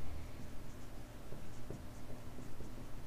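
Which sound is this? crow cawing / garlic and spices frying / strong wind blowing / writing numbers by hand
writing numbers by hand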